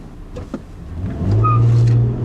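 A 2010 Toyota RAV4 with the V6 engine and all-wheel drive accelerates hard, its engine note swelling into a loud, steady drone in the second half, heard from inside the car with no talk.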